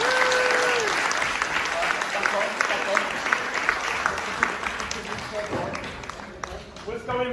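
Round of applause from an audience at a mental health and suicide awareness performance, a loud sustained crowd clapping that gradually thins and fades over several seconds, with a voice briefly audible over it.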